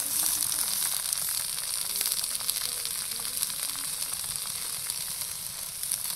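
Bottle gourd leaves frying in hot oil in a wok give a steady, loud, continuous sizzle with crackle and no voices.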